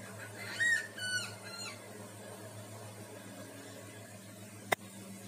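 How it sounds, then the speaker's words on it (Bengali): Birds calling outside a kitchen window, a couple of brief chirping phrases near the start, faint and distant over a quiet background hum, followed by a single sharp click. "রান্না করছি আর পাখির ডাক শুনছি"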